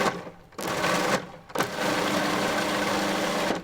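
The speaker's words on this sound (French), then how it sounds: "je vais donner 3-4 pulsions pour mixer les lardons." A Magimix food processor pulses to chop bacon lardons. Its motor whirs loudly in two or three short bursts, with brief gaps between them.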